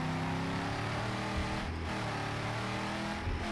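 A car in the video game Mad Max drives with a steady, loud engine drone and a low rumble, with no break across the whole stretch.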